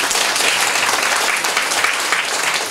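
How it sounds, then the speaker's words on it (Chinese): A political assembly audience breaks into loud, close, continuous clapping, a dense burst of hands that holds steady for a few seconds. "拍手。"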